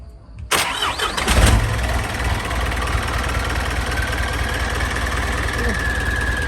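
An Isuzu 4HK diesel engine in a six-wheel truck cranks and starts with a loud burst, then settles into a steady, rumbling idle close by.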